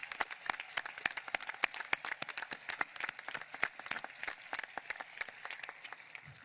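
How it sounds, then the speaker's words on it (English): Graduates at a high school graduation ceremony get sustained applause, dense rapid clapping from a crowd that continues steadily throughout. "Let's give them a round of applause."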